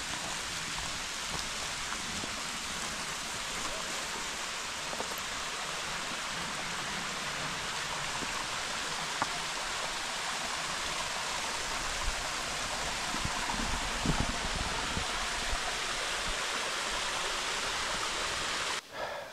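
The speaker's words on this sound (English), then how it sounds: "Now approaching this waterfall" Steady, dense rushing of falling water fills the whole stretch, a constant broadband roar close by with no talk.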